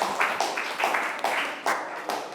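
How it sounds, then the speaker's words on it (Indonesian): A group of classmates claps for a presenting group in a classroom, a rhythmic series of close, sharp claps about every few tenths of a second, continuous throughout. "tepuk tangan buat kelompok 4"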